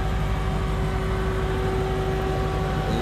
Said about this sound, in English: When you hear it, it's got the track mode on, so it's cooling down the engine extra.